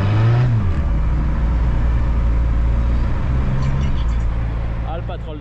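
A Peugeot 106 with a worn clutch cruises in fifth gear, its steady low engine drone and road rumble filling the cabin, the note dipping briefly before fading slightly at the end.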